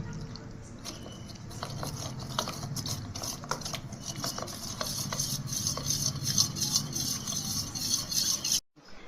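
A spoon stirs cornflour, salt and water into a batter in a bowl, with repeated scraping and clinking against the sides at an uneven rhythm. It grows slightly busier, then stops abruptly near the end.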